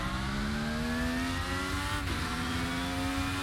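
A DTM race car from 1995 in the RaceRoom sim racing game, on track at the Red Bull Ring, holds a steady high engine whine that dips sharply when a gear shift is missed, then climbs and revs on.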